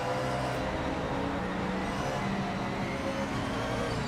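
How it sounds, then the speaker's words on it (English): Race car engine in the Project Motor Racing video game, a loud sustained drone with layered harmonic tones, steady and unbroken with no talk over it. "It feels like this car just got 2 more cylinders or it's on nitrous now."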